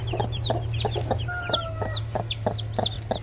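A hen clucks among her four small chicks out on pasture, giving a run of short, rhythmic clucks at close range over a low steady hum, with a few higher chirps mixed in.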